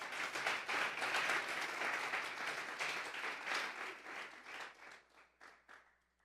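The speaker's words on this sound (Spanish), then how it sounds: "Vamos a darle un fuerte aplauso pues al Señor." A church congregation applauding together, dense steady clapping that thins out into a few scattered claps before stopping.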